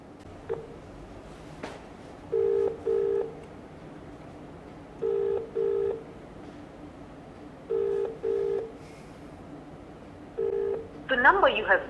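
Phone dialing to reach an MLA: several paired bursts of dual-tone keypad beeps spaced evenly apart, ending in a brief rising ringback tone, over low room noise.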